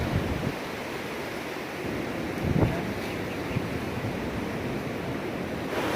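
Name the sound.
strong typhoon wind during Super Typhoon Rolly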